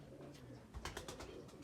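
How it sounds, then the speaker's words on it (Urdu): Pipla pigeons, a breeding pair line, give a few soft cooing calls in a short burst, fairly faint, over a quiet low background with no talk. "یہ پپلا والے کبوتر ہیں"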